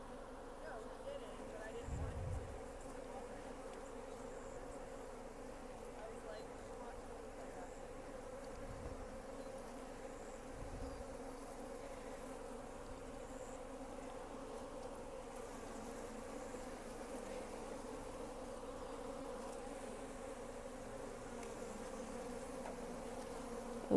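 Bees on a farm drone in a steady, low, faint buzz that runs unbroken throughout, with a few soft thumps and a little background noise.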